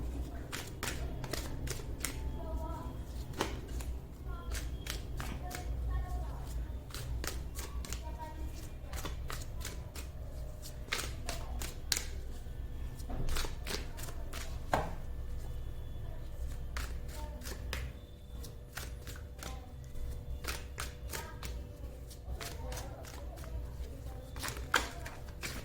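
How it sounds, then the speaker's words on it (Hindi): A deck of tarot cards is shuffled by hand in repeated quick riffling bursts, close and fairly quiet, with brief pauses between rounds and some soft talking in the background. "मैं कार्ड्स आपके सामने ही शफल करूंगी गाइस"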